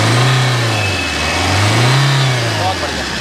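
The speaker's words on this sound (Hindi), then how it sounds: "एक बार भैया एक्सीलरेट करें।" A Maruti Suzuki Dzire LDI diesel car engine revs up twice in quick succession, rising and falling in a loud, close rhythm, while someone speaks briefly over it.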